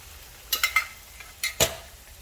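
Pasta cooks in a pot before stock is added, with a faint sizzle and several short scraping bursts of a utensil stirring against the pot, close by and with no talking.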